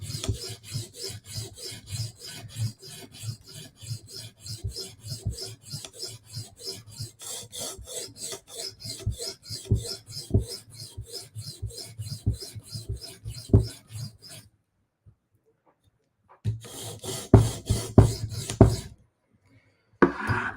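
A blade edge being worked on a sharpening stone to raise and clean up a burr, with rhythmic rasping strokes repeating steadily, then a brief pause and a short final burst of rubbing, close and fairly quiet.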